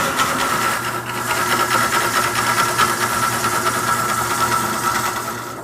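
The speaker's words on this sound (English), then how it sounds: "rough out his bowl on an exact replica of his father's heavy-duty lathe" A heavy-duty wood lathe roughs out a bowl, a loud steady motor drone with continuous grinding and chattering from the tool biting the spinning wood, unbroken throughout.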